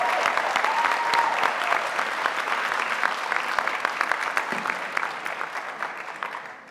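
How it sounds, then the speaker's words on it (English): A crowd applauds warmly at a high school graduation, dense clapping that holds steady and then gradually thins and fades toward the end. "Let's give them a round of applause, please"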